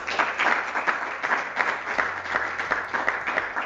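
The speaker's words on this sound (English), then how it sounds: "Shall we applause for..." Audience applause for the speakers at a space technology alumni symposium; a smaller group clapping with distinct individual claps audible, steady and fairly close throughout.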